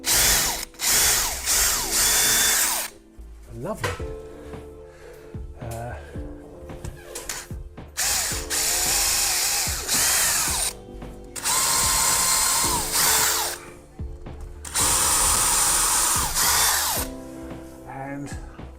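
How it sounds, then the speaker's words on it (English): A power drill whirs in repeated loud bursts separated by short pauses while drilling four holes to fit a door closer, with someone speaking briefly between them. "I've now drilled all 4 holes."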